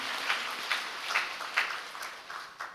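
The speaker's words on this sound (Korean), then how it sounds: "우리 한번 은혜로운 찬양들이 한번 찬양인데 박수 한번 쳐서 한번 격려하시고" A church congregation at a New Year's worship service applauds its choir: soft, steady hand clapping with a faint rhythmic pulse, distant and low in level, with no voices over it.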